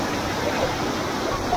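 Waterfall at Curug Cikondang pours in a constant, dense rushing wash that stays steady, with people's voices faintly mixed into the noise.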